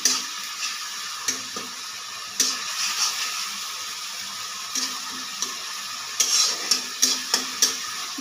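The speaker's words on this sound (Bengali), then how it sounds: "পানি দিয়ে খুব ভালোভাবে কষাতে হবে।" A carp fish curry simmering with a little water in a pan is stirred repeatedly, with a series of scraping strokes and clinks over a constant frying sizzle, close and moderately loud.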